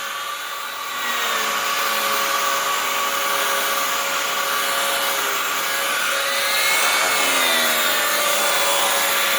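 A Dyson DC07 vacuum cleaner fitted with a turbine head runs steadily at close range, a continuous loud whir with a high whine that rises in pitch and shifts as the spinning brush moves over the floor.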